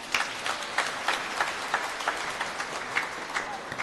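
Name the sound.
congregation clapping loudly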